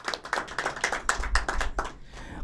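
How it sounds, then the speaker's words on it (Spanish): A short burst of hand clapping from a small audience in honour of the late Jesús Hernández at a tribute event, with irregular claps rising and then fading out after about two seconds. "Un aplauso, por favor, para él."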